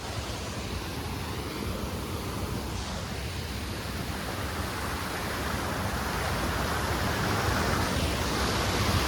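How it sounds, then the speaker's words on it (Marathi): Steady, dense rushing water roar fills the whole stretch, broadband and continuous, swelling slightly louder toward the end with no voices. "पूर्ण धबधबा आता धबधबा बघू शकता तुम्ही"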